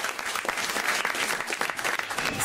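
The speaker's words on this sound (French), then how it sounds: "On vous applaudit, Azouz, bravo" A radio studio audience at a French joke show claps in dense, continuous applause, loud and sustained across the whole moment.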